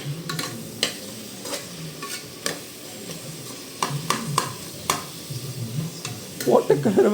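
Biryani masala with tomato sizzles in a pot, a steady frying hiss broken by repeated scraping stirs of a spoon against the metal, with a burst of louder bubbling near the end.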